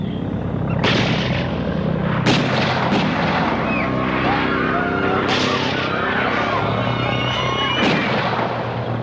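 Loud, close gunfire during an attack near a tractor and trailer, a series of sharp reports cutting through continuous dense noise and commotion, with voices mixed in.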